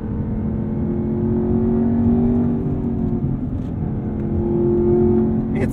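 A Chevrolet Camaro ZL1 1LE is heard from inside as the engine drones and revs, pitch rising and settling under load, with a steady loud road roar throughout and a brief sharp click near the end.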